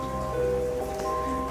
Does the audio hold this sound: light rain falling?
yes